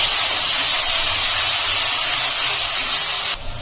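Rohu fish masala with yogurt, cumin and coriander sizzling in a hot pan: a loud, steady broadband frying hiss held throughout, easing slightly near the end.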